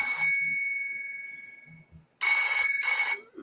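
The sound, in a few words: phone ringtone, bell notification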